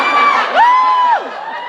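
A convention panel audience of middle-aged women screams and whoops loudly, one high, sustained, rising scream standing out over the crowd noise before it fades back into a general cheering roar.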